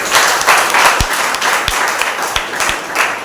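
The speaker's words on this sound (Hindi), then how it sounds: "क्यों ना हम उस जीवित परमेश्वर को और हमारा आराधना टीम के लिए जोरदार ताली बजाएं" Church congregation clapping for the worship team during a Sunday service, a loud steady roar of many hands with a few sharper individual claps standing out.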